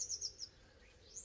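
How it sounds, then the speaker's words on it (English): Birds singing outdoors on a sunny day under blue sky, heard as a few faint, distant high chirps repeating in short bursts over quiet background noise. "Birds are singing."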